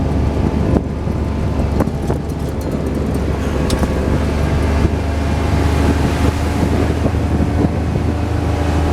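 Strong wind blows steadily across a yard of old, worn Jeeps after snow, buffeting the microphone with a loud, continuous low rumble and roar that barely changes throughout.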